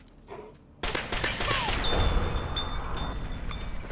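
Rapid gunfire in Fallout bursts out loud after a quiet moment, a dense fusillade of shots aimed at a chimera creature, with a high whining tone lingering beneath the sustained shooting.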